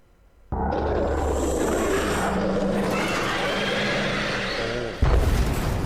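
An explosion in the horror video game Haunted School 2, a sudden loud boom that bursts in and rumbles on for several seconds, followed by a second, sharper hit near the end.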